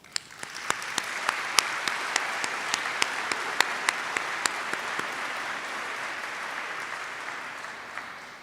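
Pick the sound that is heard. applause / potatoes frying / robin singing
applause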